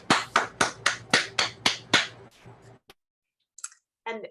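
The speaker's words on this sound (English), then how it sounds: "let's go ahead and unmute and applaud again" Clapping from an online gala audience after unmuting: a quick, even run of about nine sharp claps that trail off into silence, followed by a couple of brief faint noises.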